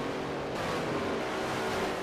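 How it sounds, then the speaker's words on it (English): A pack of historic Trans Am race cars at Laguna Seca in a racing video game, engines droning together at moderate loudness as they run down toward turn 1, with no voices. "here we got just a gaggle of cars running down towards turn 1"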